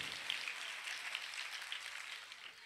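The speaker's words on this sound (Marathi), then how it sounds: "एकदा जोरदार टाळ्या वाजवायच्या आहेत." Faint crowd applause from an audience at a Shivjayanti celebration, a steady wash of clapping heard at a distance with no voices over it.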